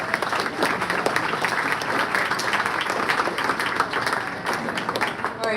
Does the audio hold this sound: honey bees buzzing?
no